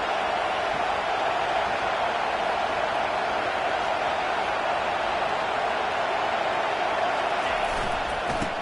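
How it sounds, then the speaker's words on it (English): Stadium crowd noise in a college football video game, a steady wash of roaring fans building in volume under a commentator's voice. "It is getting loud as this crowd tries to help its defense."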